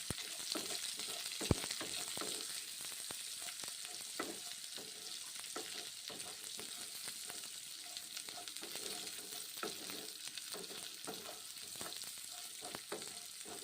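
Kalai dal frying in a pan, a continuous hissing sizzle with frequent stirring scrapes and clicks of a spoon, one sharp knock early on, steady and fairly quiet throughout with no speech.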